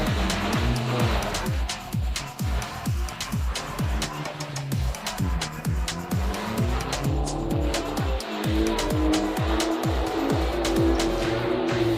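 A BMW drifting a lap on a track, its engine revving in rapid repeated surges and bouncing off the limiter while tires squeal in long sliding stretches, loud and close throughout.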